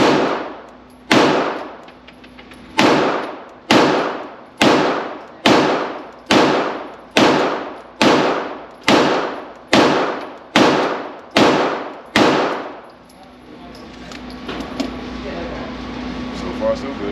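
A Beretta M9A4 pistol fires about a dozen loud, sharp shots at a steady, evenly spaced pace, each with a ringing decay. A low background hum continues after the last shot.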